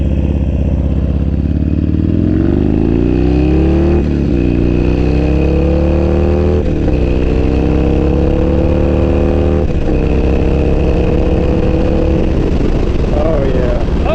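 Motorcycle engine running steadily on a first ride after a TPS sensor replacement, a continuous near drone with rising and falling revs as it accelerates through gears, wind noise over it and a rider's voice talking at times.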